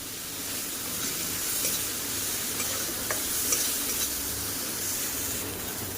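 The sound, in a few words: cumin and ginger paste sizzling in pan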